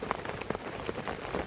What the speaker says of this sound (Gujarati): જો તમે કેટલો વરસાદ પડે છે.